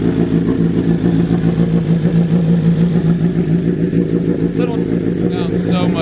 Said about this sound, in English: And the full exhaust. Have you heard this exhaust yet?